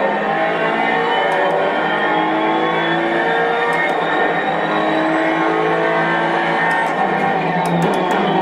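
A race car engine in the racing sim Assetto Corsa Competizione, driven on a circuit, holds a loud steady high drone with rising and shifting revs the whole time, with no talk over it.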